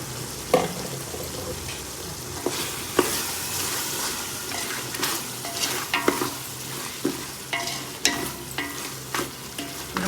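Mutton for biryani, cooking with coriander and mint, sizzles steadily in a hot pan while a spoon repeatedly stirs and scrapes, giving periodic sharp clatters over constant frying crackle.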